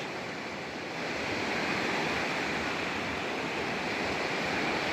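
Ocean waves break on a Kovalam beach in Kerala, a continuous broad wash of surf with a steady roar and some wind, heard alone without voices.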